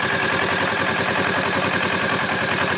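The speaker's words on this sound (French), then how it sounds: "Ensuite, je mets en route le moteur" Kawasaki Z650 motorcycle at a riding school, its engine running at a steady idle, a close, even, pulsing rumble that never changes.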